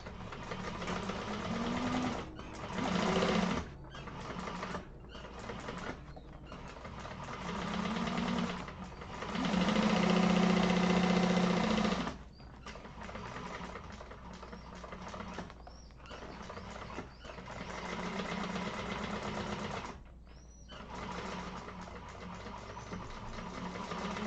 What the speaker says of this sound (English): Okay, so second line of stitching just to strengthen my stitches.